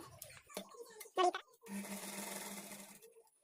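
A sewing machine stitches the front panel of a blouse, running in one steady, close burst of about a second after some brief handling clatter.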